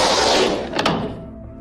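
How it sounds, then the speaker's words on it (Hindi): A cartoon table door in a haunted-house horror episode slams shut with a loud, close, booming thud that rings out and fades away over about a second. "तभी टेबल का दरवाज़ा बंद हो जाता है"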